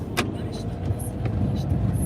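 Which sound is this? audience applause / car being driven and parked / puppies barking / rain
car being driven and parked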